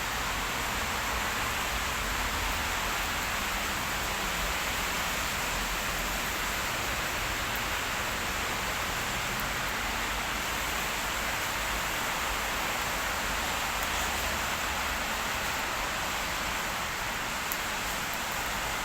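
Steady rain pours down without a break, a dense broadband hiss that stays even and loud across the whole stretch, with no voices.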